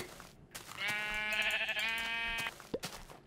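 A sheep in the video game Minecraft lets out one drawn-out, wavering bleat lasting over a second, loud and close, with soft clicks and game noises around it.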